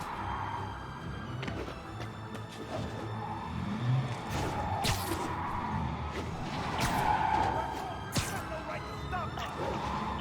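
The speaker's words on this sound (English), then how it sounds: "Yep, that's a high-speed car chase" Video game car chase in Marvel's Spider-Man Remastered: a continuous busy wash of engine roar and skidding tires, with bursts of crashes and impacts throughout a dense city mix, steady and moderately loud.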